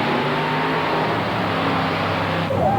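Blown, fuel-injected mud racing machine with a 1271 blower launching off the line, a loud sustained roaring engine throughout, nearby and steady with a brief pitch shift near the end.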